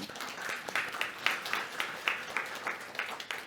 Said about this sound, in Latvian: tāpēc aplausi tev